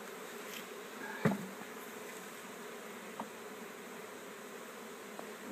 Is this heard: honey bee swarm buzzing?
yes